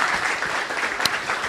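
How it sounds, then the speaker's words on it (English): Brief, steady audience applause for a panel at a dialogue session, dense clapping throughout with one sharper clap standing out near the end. "I think our panel deserves a round of applause."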